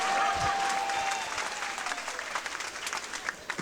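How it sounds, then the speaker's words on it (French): An audience claps at a comedy festival show, sustained applause that thins and grows more scattered toward the end, with brief voices mixed in. "On applaudit"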